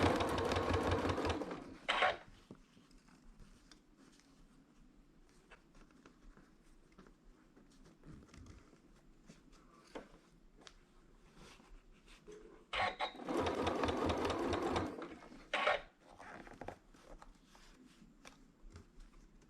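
Sewing machine stitching sashes on a quilt, running in two loud bursts of fast, steady stitching near the start and again later, with quieter handling and fabric shuffling between.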